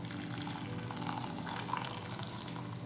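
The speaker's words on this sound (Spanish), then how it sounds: "Lo que tenemos que hacer ahora es cubrir esto con agua hirviendo." Boiling water is poured over chamomile and mint tea leaves, giving a steady, close hiss and rushing splash for a few seconds without pause.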